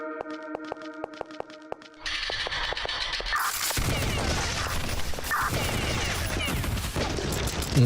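Pistol gunfire in the video game Beyond Citadel: after a run of light mechanical clicks, a dense stretch of repeated shots and loud game effects rings out with background music, no talking.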